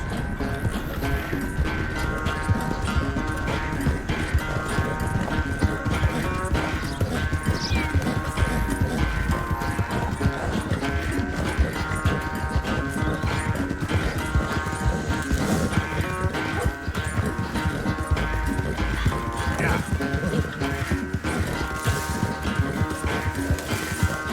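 Hooves of a galloping horse in Red Dead Redemption 2 pound in a fast, steady rhythm for the whole stretch, loud and dense, mixed with tack and mechanical rattling.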